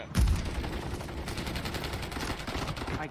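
Renetti pistol gunfire in Call of Duty MWIII multiplayer, a sharp shot at the start followed by dense continuous gunfire and battle noise at moderate level.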